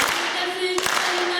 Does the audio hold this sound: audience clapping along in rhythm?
yes